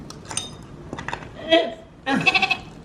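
A woman imitates a goat's bleat with a few nasal, wavering cries that build to a longer final bleat, with brief speech and faint clinks nearby.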